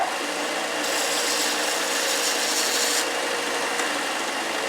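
A wooden dowel end being tapered by rubbing and rasping, a steady close scraping that swells brighter in the middle and then eases off, with no voices.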